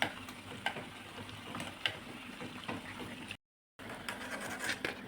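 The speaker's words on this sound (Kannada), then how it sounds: "ಈ ಥರ ಚೆನ್ನಾಗಿ ಫ್ರೈ ಮಾಡ್ಕೊತಾ ಇದ್ದೀವಿ" Pumpkin gargi, sweet fritters, fry in oil with a quiet, even bubbling sizzle and faint intermittent taps; the sound cuts out briefly for a moment before resuming.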